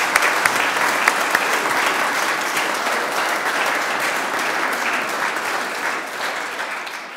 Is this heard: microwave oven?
no